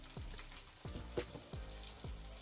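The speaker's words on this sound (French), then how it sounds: "On va laisser les oranges rôtir là" Orange slices roast in a pan over low heat for a dish of roasted quail with oranges, giving a steady close sizzle broken by several sharp knocks and clatters of the pan.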